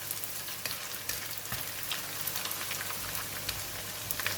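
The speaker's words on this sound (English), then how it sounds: "It's just a quick stir in the hot oil." Ikan bilis anchovies frying in very hot oil while being quickly stirred in the pan, a dense, steady close sizzle with scattered crackles and soft scrapes, no speech.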